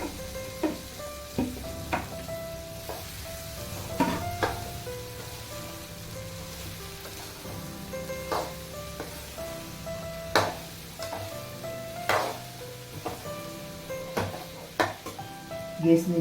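Okra tipped into a frying pan with hing and garlic paste sizzles steadily, punctuated by clinks and scrapes of a utensil against the pan, with a voice talking intermittently nearby.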